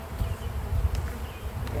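Honey bees hum around an open beehive during a hive inspection, a steady low drone that rises and falls softly, fairly close, with no talk.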